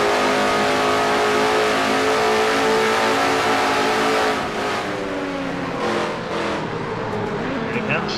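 A race car engine at Riverside in an NNSCRA Castrol GTX Cup race revs hard and loud, then drops in pitch as it downshifts through the gears, with a commentator talking over it throughout.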